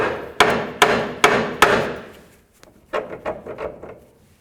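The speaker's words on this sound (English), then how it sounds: "I'm just going to give this a couple loving bonks to break it free." A hammer strikes the idler arm bracket on a 1992-2000 Chevy Tahoe to break it free: four sharp, evenly spaced metallic bangs up close, then a few lighter knocks and rattles of loosening parts.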